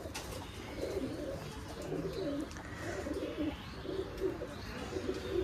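Pigeons at a pigeon farm cooing steadily, soft rolling coos repeating and overlapping at moderate distance, with a faint chirp or two.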